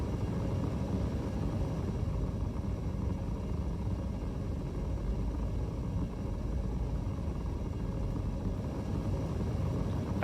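A Hornet spaceship roars in quantum travel in a space game, a continuous loud, dense rumbling hum that holds steady throughout with no pauses.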